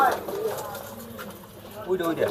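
King pigeons coo at a pigeon market in Khulna, their soft throaty calls mixing with someone speaking nearby and general market bustle.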